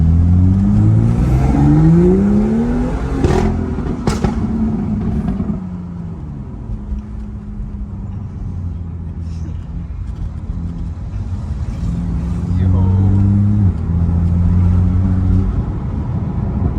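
A BMW M2 CS engine revs hard, climbing in pitch several times, then settles into a deep burbling idle before revving again.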